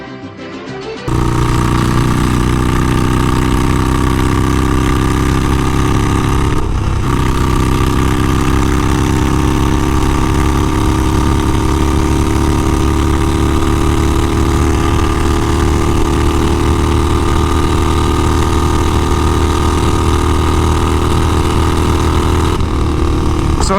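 A loud, steady Harley-Davidson Sportster 48 motorcycle engine drone at highway speed, with a sustained exhaust tone that rises slightly in pitch, continuous and close, with no talking.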